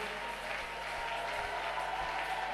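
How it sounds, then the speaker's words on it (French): A church congregation applauds steadily at a French-language worship service, a dense even wash of clapping and crowd noise with no talk. "Vous avez raison de l'acclamer, acclamer très fort."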